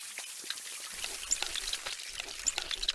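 Water pouring in the mobile game Kick the Buddy, a light splashing and dripping stream with small droplet sounds, moderately faint and continuous.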